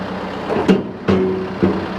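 Tractor-mounted snowblower driving in reverse, its engine droning steadily with a few louder surges and a faint tonal whine, fairly close and with no one speaking.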